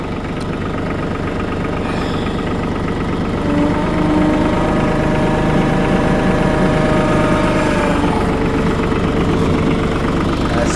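A loud tractor engine idling close by, a steady rumbling drone with rhythmic knocking that swells slightly partway through, no voices.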